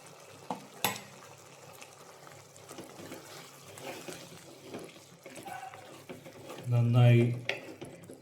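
Beef with yogurt being stirred in a pan, a quiet wet sizzle and scraping, with a louder burst of bubbling and stirring near the end.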